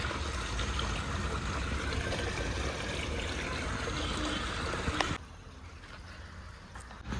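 At Vateshwar Temple's tank in Saswad, water streams and trickles in a continuous close rush that cuts off sharply near the end, leaving quieter ambience.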